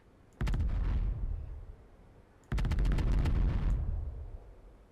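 Two heavy volleys of ship weapons firing in Space Engineers, each a loud rapid burst of booming shots lasting about a second and decaying into a rumbling tail, spaced about two seconds apart.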